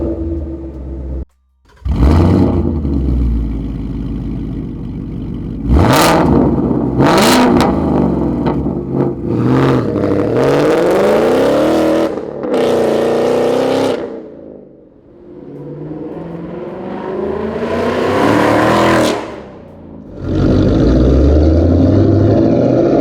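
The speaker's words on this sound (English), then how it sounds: "Really what we'd expect with the resonator delete, X-pipe, and the Roush muffler" Car exhaust with a resonator delete, X-pipe and Roush muffler revving repeatedly, loud close rasping blips and sweeping rises that drop back to a rumbling idle, with one brief cut near the start.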